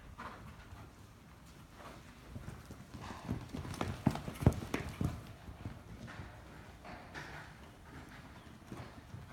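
A horse canters during a riding lesson, its rhythmic clip-clop hoofbeats close and steady with an occasional snort, while a voice talks faintly in the background.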